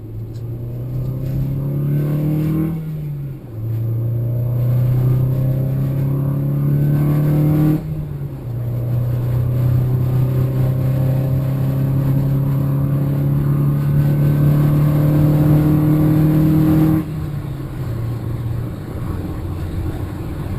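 A Harley motorcycle accelerating onto the interstate, its engine pitch climbing through several gear changes with brief dips between shifts, loud and close under steady wind rush.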